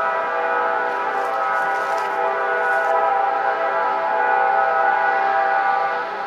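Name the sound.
train whistle blowing on tracks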